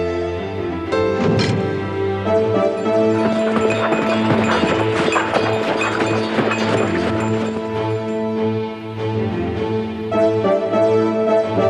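Horse hooves clip-clop steadily beneath loud, full orchestral music that swells and continues throughout.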